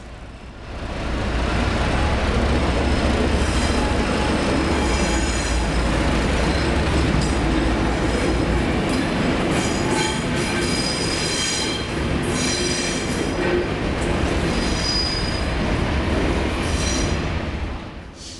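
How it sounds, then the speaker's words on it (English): Two diesel locomotives hauling heritage carriages rumble past loudly at a Sydney station in New South Wales, with steady engine drone, rolling wheel noise and faint squeals, fading at the end. "The two diesel locomotives and their carriages will be heading back to Everleigh Railway Workshops."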